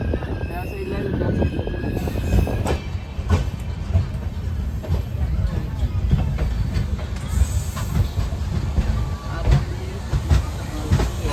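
A Konkan Railway train on the Borivali to Ratnagiri run rumbles steadily and loudly up close, with low rolling noise, faint clicks and hiss, and people talking over it throughout.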